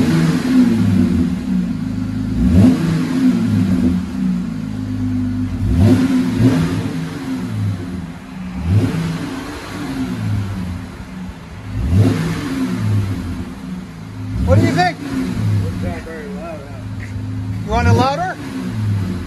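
A Jeep Gladiator 3.6L V6 with a Borla S-Type or 14-inch Magnaflow exhaust revs repeatedly from inside the cab, a loud swelling engine note that rises and falls over and over while people talk.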